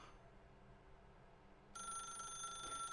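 Telephone ringing in The Stanley Parable Ultra Deluxe, a steady electronic ring with bright sustained tones that kicks in suddenly partway through and stays loud over a low ambient hum.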